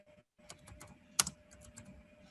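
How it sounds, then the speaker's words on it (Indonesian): Quick, light keystrokes on a computer keyboard while entering a table of contents in Word, a short irregular burst of close clicks with one sharper tap near the middle. "Selanjutnya kita ketik lagi daftar isi."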